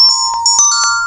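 A phone rings before going to voicemail during a test of an automated phone answering system; a repeating electronic ringtone pattern of short, bright tone bursts, loud and close, with no voices.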